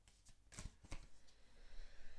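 Tarot cards being shuffled by hand, a few quick riffling bursts close up followed by softer sliding and rustling of the deck.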